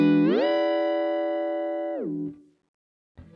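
Electric guitar run through a Fractal whammy pitch block in smooth tracking mode: a sustained distorted chord glides up in pitch, holds steadily, then slides back down and fades, followed by a brief noisy burst at the end.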